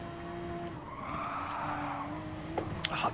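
A Porsche skidding in Gran Turismo Sport, a tire squeal rising over a steady engine drone during a charity race, moderately loud and alone, with a few light knocks at the end.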